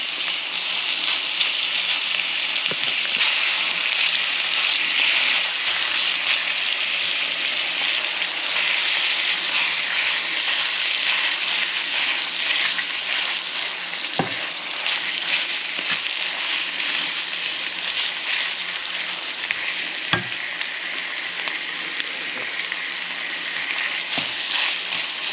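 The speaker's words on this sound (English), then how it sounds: "Now we can add our Wagyu beef." A cup of Wagyu beef fries in a pan with sweated onion, giving a loud, steady sizzle and crackle that runs unbroken throughout, with a few sharper pops and scrapes along the way.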